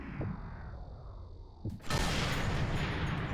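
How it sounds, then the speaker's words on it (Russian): A sniper rifle fires a single shot in the Sniper Elite 3 video game, cracking sharply and rolling into a long, loud rumbling tail after a quiet windy ambience. "а если я отсюда выстрелю, попаду или нет?"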